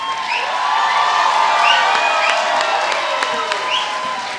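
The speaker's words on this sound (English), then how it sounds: "A big round of applause." Audience at a school annual day function claps and cheers in a steady, dense wash of applause with scattered whoops, sustained throughout at moderate loudness.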